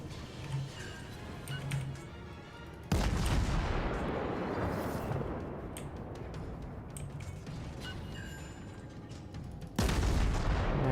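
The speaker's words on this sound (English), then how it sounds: "I keep firing at this New York" Naval gunfire from a warship in World of Warships, firing at a New York battleship: two loud, heavy broadside salvos, each a sudden blast followed by a long rumbling roar.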